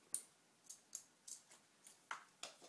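Scissors snipping through a rubber balloon while making a juggling ball, giving about seven short, crisp clicks at a steady pace, close and fairly quiet with no talk.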